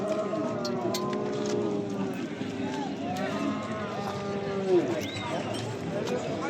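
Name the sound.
cattle mooing, Swedish breed calves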